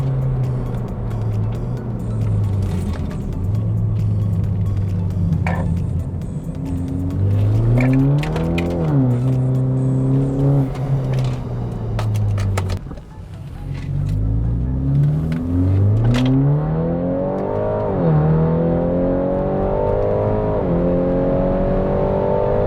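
A tuned BMW G20 330e with a B48B20A engine and DCE exhaust accelerating hard through several gears, engine note climbing then dropping at each shift, loud and close, with a brief lift-off before pulling again.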